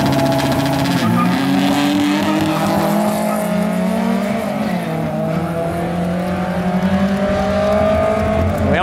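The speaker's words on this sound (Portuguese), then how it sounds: "Vamos ver esses carros puxando." Two naturally aspirated Volkswagen Gol cars launch in a drag race, engines roaring and revving hard with rising pitch, tire squeal mixed in, loud and sustained from start to finish.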